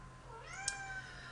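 A pet cat gives a single drawn-out meow with a rising then falling pitch, faint and somewhat distant over a low background hum.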